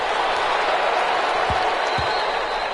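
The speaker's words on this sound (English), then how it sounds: "How about some applause for the defense there?" Steady crowd applause fills a PS4 American football video game stadium after a defensive stop, a dense, even wash of clapping with no break and no one speaking over it.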